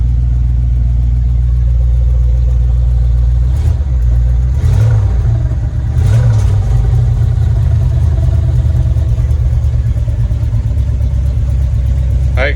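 A 1989 Dodge service truck engine runs steadily with a heavy low rumble, close and loud, with a few brief revs and rattles partway through as it idles on old gas.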